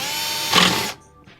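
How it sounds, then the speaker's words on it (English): A power drill whirs steadily at high speed into a proton pack bumper, surging briefly midway and then abruptly winding down to near silence. "to help kind of give it some more resistance so it doesn't want to move too much while I'm drilling"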